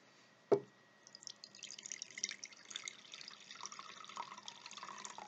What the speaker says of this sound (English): So we got some water, so I'm going to add that to our scrying bowl.